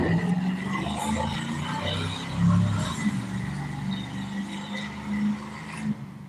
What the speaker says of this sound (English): That little car looked new, but it sounded like a hot rod.